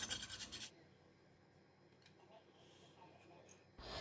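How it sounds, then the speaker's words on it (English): Fresh turmeric root is grated into a fine paste. A louder burst of rasping at the start gives way to a faint, scratchy rubbing, and the scraping returns more loudly at the end. "Now grate the turmeric root into a fine paste."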